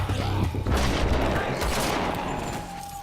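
Rapid gunfire crackles on a set for The Walking Dead as walkers are shot, a dense loud burst of overlapping shots and booms that trails off into a softer rattling tail.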